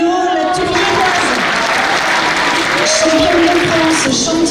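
Audience applauding at the closing award ceremony of a French chess championship, steady dense clapping filling the room throughout, with a voice speaking over it.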